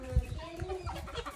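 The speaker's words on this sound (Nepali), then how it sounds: "लोकल कुखुरा आयो" Local chickens offered for sale at a roadside spot in Biratchowk cluck quietly and repeatedly against a murky background, with one soft thump near the start.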